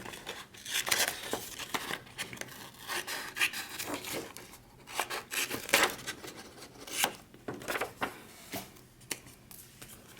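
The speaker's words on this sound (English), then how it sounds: "I think I'm gonna cut them out, but I'm gonna separate them" Scissors cut out paper pieces for a summer journal spread: close, irregular snipping and rustling strokes in uneven bursts, with no talking.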